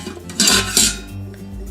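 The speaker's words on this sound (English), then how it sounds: "So first I'm going to add the steam basket." A metal steam basket is set down into the inner pot of a Simfonio electric pressure cooker, giving two bright metallic clanks close by that ring briefly and fade, with no voices.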